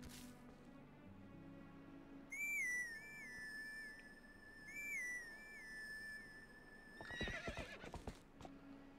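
Grass-whistle horse-call tune from the Zelda Twilight Princess video game, a clear warbling melodic whistle repeated twice over a soft ambient backdrop, followed by a horse's whinny and hoof clatter.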